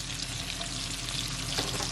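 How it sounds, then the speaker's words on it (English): Steady, continuous sizzle of carrots cooking in a pot of chicken stew, with faint stirring scrapes near the end, close and even throughout with no voices. "I'm gonna give it a stir."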